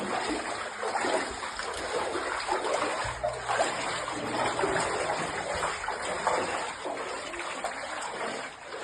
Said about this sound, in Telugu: ఈ పళ్ళలో నీళ్ళు పోతూ ఉంటాయి. ఇవన్నీ సౌండ్ చూసారా?